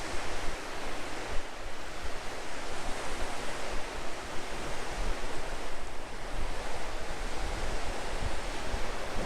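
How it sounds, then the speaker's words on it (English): Steady breeze buffeting the microphone on the Mijas Costa beachfront, a constant broadband rush with surf-like swells that continues unbroken throughout. "The breeze is really picking up."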